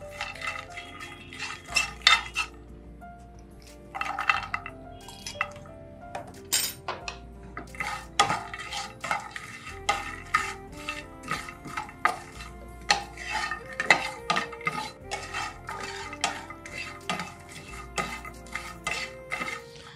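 Makhana stirred into a spice mix in a pan, with repeated clinks and scrapes of a spoon against the pan in an uneven rhythm over a low background hum, close and fairly quiet.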